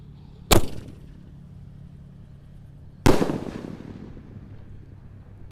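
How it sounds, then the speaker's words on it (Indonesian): Two sharp, loud firecracker bangs from a bazooka-style launcher, one early and one about two and a half seconds later, the second trailing into a brief crackling echo, outdoors with a low background hum. "Sudah menyala ini. Pelontar Basoka single rush"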